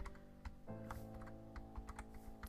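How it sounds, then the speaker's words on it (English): A computer keyboard is typed on in quick, irregular clicks and clacks, close and clear over a faint steady background hum during a game session, with no voices. "I wish they made it so that these keyboards weren't as loud"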